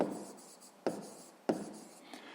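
Pen writing numbers on paper for a sixth-grade math exercise: steady close scratching strokes broken by two sharp taps, heard alone without talk.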